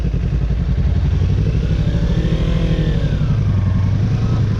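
A 2017 Kawasaki Ninja 300 motorcycle being ridden, its engine droning steadily and loud at close range with a rough throbbing pulse and wind rush, no talk.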